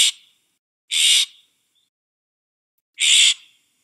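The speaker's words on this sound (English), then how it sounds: "they emit a very annoying little squawk" Florida scrub jay giving harsh, raspy squawks, three bursts spaced irregularly over a few seconds, fairly close and loud against silence.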